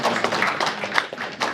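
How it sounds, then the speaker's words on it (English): An audience at an investor evening gives a round of applause: a brief burst of many hands clapping, close and moderately loud, with a few sharper claps rising above the wash. "So a big round of applause for you guys, first of all"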